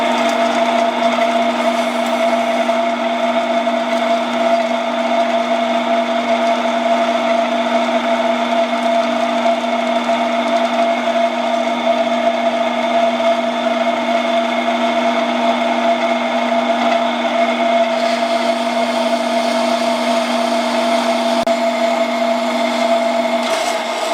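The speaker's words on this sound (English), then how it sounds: "I'm going to take this to the bandsaw and trim off a little piece" A bandsaw runs steadily and loudly for the whole stretch while trimming a piece of steel for a custom transmission cross member, its tone unbroken by pauses.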